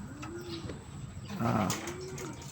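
Soft racing pigeon cooing, low rolling coos repeated a few times, close by over a quiet background hum.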